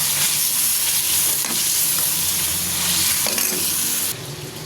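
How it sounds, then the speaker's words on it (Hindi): Chicken pieces fry in hot ghee with a loud, steady crackling sizzle and occasional stirring clatter, the hiss dropping noticeably near the end. "इसी घी में हम चिकन को फ्राई कर लेंगे"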